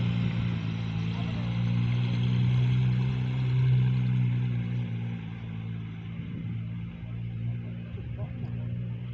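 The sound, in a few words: Porsche 911 GT3 RS engine idling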